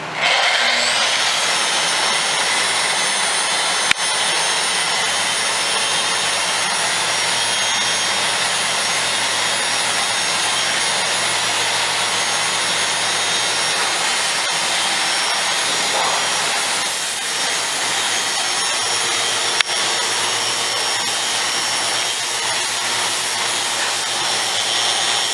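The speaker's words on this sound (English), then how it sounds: "the sandpaper we're using is 100 grit, and the best tool sander's on grind mode" Best Tool sander with 100-grit paper on grind mode strips glue on a vertical seaming table, a loud, unbroken high whine and rasp held steady for a long stretch, with a couple of brief knocks.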